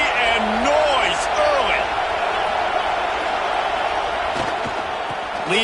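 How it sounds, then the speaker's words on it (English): Stadium crowd roar at a football game, a steady loud wash of voices and cheering throughout, with a play-by-play announcer talking over it. "This crowd bringing the energy and noise"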